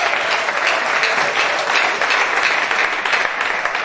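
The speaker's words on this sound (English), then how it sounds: "Can we clap for Master Jesus?" A church congregation applauds a testimony of deliverance from fibroids, dense sustained clapping from many hands filling the hall loudly and evenly, with a few faint voices underneath.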